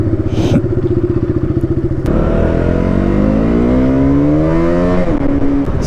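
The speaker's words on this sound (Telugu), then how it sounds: "చాలా రోజుల తర్వాత అయితే బైక్ స్టార్ట్ చేసాం." A motorcycle engine, started after many days idle, runs with a steady close throb, then revs up in a long rising whine before settling back to idle.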